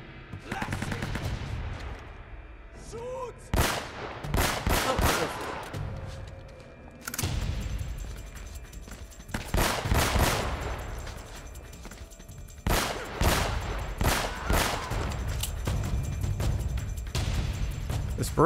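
Gunfire from a Beretta pistol and a shotgun in the Uncharted video game, loud sharp shots in clusters and single blasts spread across the stretch, with quieter rumbling gaps between them.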